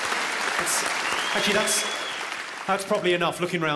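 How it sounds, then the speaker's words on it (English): A comedy club audience applauds the women in the crowd, with a burst of clapping and cheering that gives way to a comedian talking. "Let's have a round of applause for the ladies."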